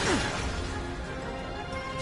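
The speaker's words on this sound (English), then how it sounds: "So we're going to hit him with a blizzard." In Final Fantasy VII Remake, a blizzard spell strikes and shatters with a loud, dense crash and icy whoosh right at the start, then trails off into a busy rumbling wash of game battle noise.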